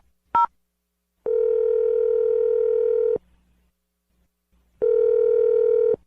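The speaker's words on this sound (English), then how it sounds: "I'm going to dial the phone number" A telephone dial tone sounds while a phone number is dialed: a short double beep of keypad tones, then two long steady tones of about two seconds each, separated by a brief gap, loud and clean with no voices.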